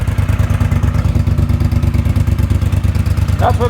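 A Honda GL650 motorcycle engine, built up as a cafe-style restomod with a lightened flywheel, pulses with a fast, steady throbbing beat as it pulls under quick acceleration, close and loud with no talk.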